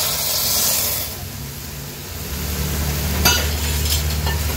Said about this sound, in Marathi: मी हे अर्धा ग्लास एवढं उकळतं पाणी ॲड करते